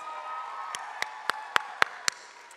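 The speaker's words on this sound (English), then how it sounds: "Another round of applause for our dance majors." Scattered, slow claps for graduating dance majors at the Boston Arts Academy 2023 graduation ceremony: about six sharp individual claps at a steady pace over a faint room hum, with no full crowd ovation.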